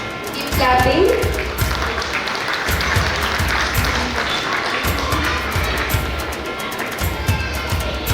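Audience at a school gathering applauds, a sustained crowd clapping that carries on steadily beneath a voice speaking over a microphone.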